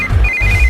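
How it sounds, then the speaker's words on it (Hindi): A telephone ringtone sounds in a scene from a Telugu film, a steady electronic tone that rings loudly and alone for under a second. "इस वक्त दीदी का फोन।"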